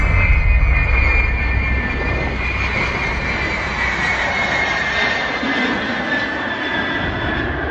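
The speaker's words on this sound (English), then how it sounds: "One of the best aircraft sounds." Military jet aircraft engine roaring loud and steady, a broad continuous rumble with a high whine that holds throughout, close and alone with no voices.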